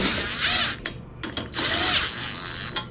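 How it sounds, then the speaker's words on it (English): Cordless impact driver with a 10mm socket snugging saw press bolts, several loud short bursts of whirring and rattling impacts separated by brief pauses, close by with no talk. "grab our impact, grab our 10mm socket"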